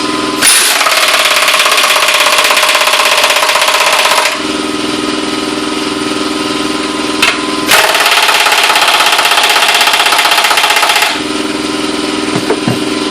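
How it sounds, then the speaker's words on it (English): Ingersoll Rand 2135QTI MAX air impact wrench tightening lug nuts, two loud sustained runs of rapid hammering, each lasting about four seconds, with a quieter air hiss between them. "tighten them with the Ingersoll Rand for about 5 seconds"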